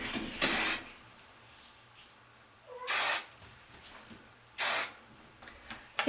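Three short hissing bursts of hairspray are sprayed onto freshly curled hair, close and crisp, separated by quiet pauses, with no talking.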